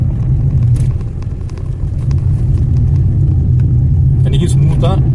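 A car drives along a main road in Coimbatore traffic, with a constant low rumble and vibration from the tyres and suspension, loud and close throughout, and a few brief higher sounds near the end.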